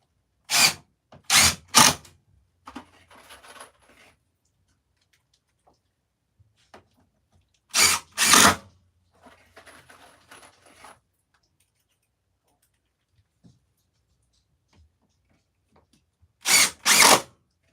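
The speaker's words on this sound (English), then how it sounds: "we just keep shooting the screws and we keep getting this thing anchored down" Power drill driving screws into a wooden table under construction, in three separate groups of two or three short loud bursts, with quieter rattling handling noises between them.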